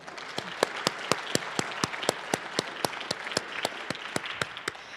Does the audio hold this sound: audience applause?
yes